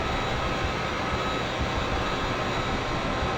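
Engines of a Bek Air 2100 airliner during a rolling takeoff roar as a constant, dense broadband drone, steady and loud throughout with a faint whine on top and no voices.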